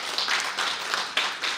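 Audience applause for a speaker fills the room as a steady wash of many hands clapping, swelling in a few uneven surges over a short stretch.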